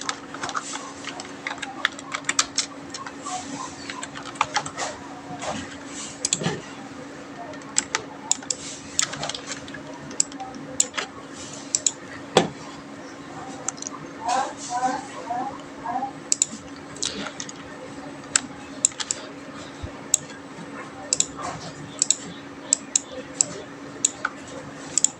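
Someone types on a computer keyboard, faint irregular key clicks coming in short flurries and single taps over a low steady hum, with brief talking.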